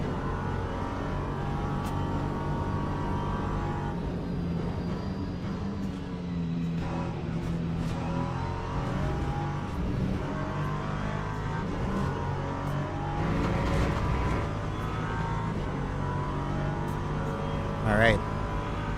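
LMP3 prototype race cars in a racing video game around the Lesmo corners, droning engines rising and falling in pitch through shifts and overtakes, with someone talking over them throughout.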